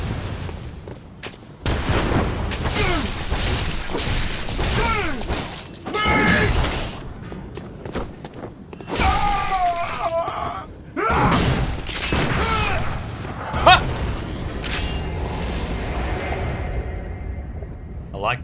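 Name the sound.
rifle spear gunfire in video game Bloodborne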